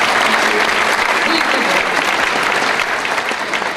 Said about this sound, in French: Et voilà, sous vos applaudissements